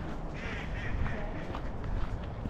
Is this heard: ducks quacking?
yes